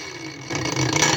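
A MELLIF AG-DW20 cordless three-speed angle grinder spins a blank, unmarked disc. Its steady motor whir grows louder about halfway through the brief moment.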